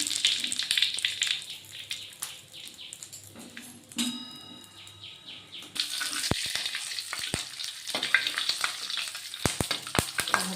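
Cardamom pods and bay leaves crackle and sizzle in hot oil, with a brief bubbling hiss. A louder burst of frying follows, broken by several sharp pops and clinks of a spoon against the pan.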